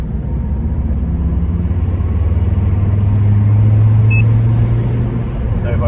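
A Ford Focus ST drives in gear after its vibration was fixed with genuine Ford driveshafts, its engine a loud, smooth, steady hum with a low tone that rises gradually under road rumble.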